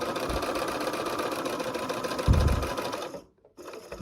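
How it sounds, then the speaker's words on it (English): A sewing machine stitches quilt fabric in a steady, fast mechanical whir lasting about three seconds, with a heavier thump near the end before it stops abruptly, close and alone. "And I'm going to sew right into that point."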